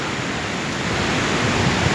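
Floodwater rushes near a road at La Tumana, close to Huaituna in Huari, as a dense, steady roar that fills the whole clip, loud and close, with no voices heard.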